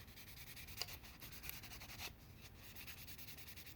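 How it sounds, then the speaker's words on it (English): Quiet, steady rubbing of sandpaper over the car body of a 1965 Chevrolet Impala lowrider, working around the emblems in short repeated strokes with a few faint scrapes. "I don't want to sand those off because I'm sanding them around them."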